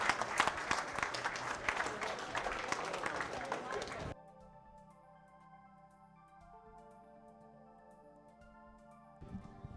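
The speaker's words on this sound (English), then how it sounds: "let's give it a round of applause for them" An audience applauds a winning middle school robotics team at a state championship, with loud crowd clapping for about four seconds before cutting to quieter music with faint voices.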